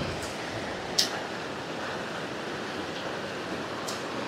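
Water rushes steadily at Srisailam dam, a dense, unbroken roar heard outdoors from nearby, with a faint tick or two standing out over the constant flow.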